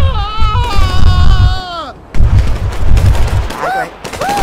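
Repeated gunfire thumps in the GTA 5 video game, mixed with loud warbling, wailing tones and other chaotic effects, dense and close throughout.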